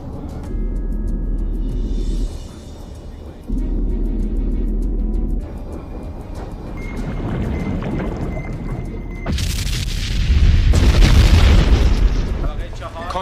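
Movie sound effect of torpedoes exploding underwater near a submarine, with deep rumbling booms in several heavy bursts and a loud muffled blast near the end, all under dramatic voices.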